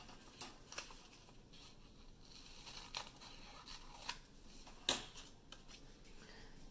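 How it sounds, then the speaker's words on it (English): Scissors trimming paper-like texture material in a quiet room, a few faint, scattered snips and rustles with no voices. "Looks like I still need to trim that down a little bit."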